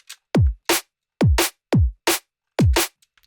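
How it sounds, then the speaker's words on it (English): A drum pattern built in FL Studio, with a long thumpy kick alternating with a distorted, clappy snare. Four loud, punchy pairs of hits play in a steady groove. "We've got quite a long thumpy kick here and a distorted clappy snare."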